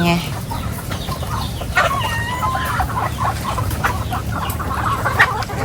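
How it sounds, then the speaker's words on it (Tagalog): Backyard chickens cluck busily and steadily at close range while being fed, with overlapping calls, a few short squawks and faint background voices. "nakaabang na ang kanyang mga alagang manok. Kanya daw po munang pakakainin"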